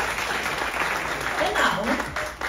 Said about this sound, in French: On l'applaudit très fort pour les amis français francophones.